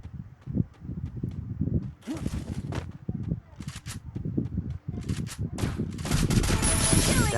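Shooting video game gunfire: rapid bursts of automatic shots and single cracks in quick succession, loud and dense, with a voice talking excitedly over them.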